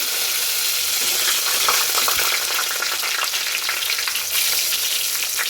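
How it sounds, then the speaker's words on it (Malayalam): Loud, steady sizzling and crackling of dried chillies frying in hot oil with popping mustard seeds, continuous throughout with no talking. "കടുക് പൊട്ടിയതുകൊണ്ട് വറ്റൻമുളക് ഇട്ട്"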